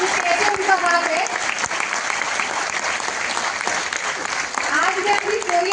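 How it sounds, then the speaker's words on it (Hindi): Loud, dense audience applause for the speaker's husband at a talk, continuous clapping from a large crowd that holds steady throughout with a few voices and cheers mixed in. "मेरे हस्बैंड को एक बार जोरदार तालियां बजा दीजिए।"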